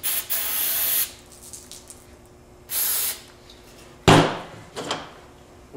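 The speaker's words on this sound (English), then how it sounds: "Spray a little of this down the barrel." Three short hissing bursts of aerosol solvent sprayed down a Charles Daly gun barrel, about a second each with pauses between, followed by a sharp knock near the end.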